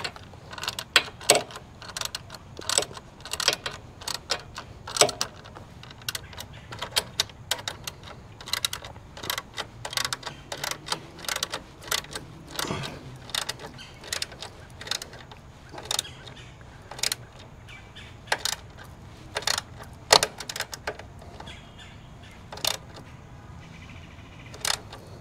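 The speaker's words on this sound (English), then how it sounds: "Once that's tightened, then you take your ratchet set." A hand ratchet tightens bolts during an accessory install on a Harley-Davidson motorcycle, making many close, sharp clicks in quick, uneven bursts over a low background hum.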